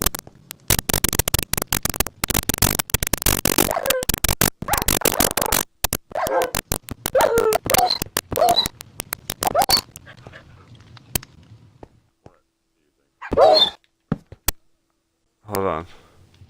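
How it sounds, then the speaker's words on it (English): Dogs fighting, one of them white, with rapid frantic barks, snarls and whimpers crowding together up close and loud, then dying into scattered yelps; people talk over the scuffle. "Dogs are killing each other."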